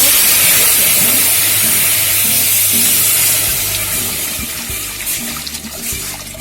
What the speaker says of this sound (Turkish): Şimdi ilk önce suyu dökeceğim.